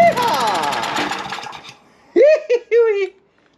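A small gas engine with the choke on sputters and chugs roughly for under two seconds, then fades out. A nearby voice speaks briefly afterward.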